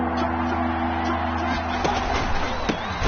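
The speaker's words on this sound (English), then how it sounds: "Here comes a big one as this crowd gets up making some noise." Stadium crowd noise from the Madden 20 football video game, a steady roar that swells as fans rise on third and short, with commentator-style talk over it.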